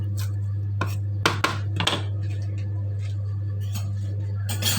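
Spoon clinks and scrapes against a bowl while a Thai shrimp dish is tossed together, a few sharp close taps in a short cluster, over a constant low electrical hum.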